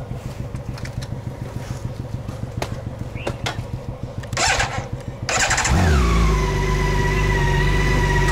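A BMW K1600 bagger motorcycle engine cranks and fires up close by, then settles into a loud, steady idle after a stretch of quieter rhythmic ticking.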